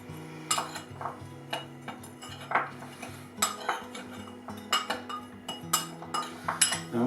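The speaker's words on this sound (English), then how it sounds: "We'll get that all mixed together" Dried rosemary and other herbs and spices being mixed in a bowl for a turkey crown rub, with repeated sharp clinks and scrapes of a utensil against the bowl in an uneven rhythm, close and clear, no talking.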